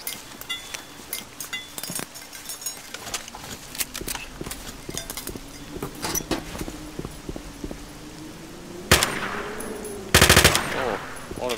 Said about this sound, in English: We might try this new pistol out.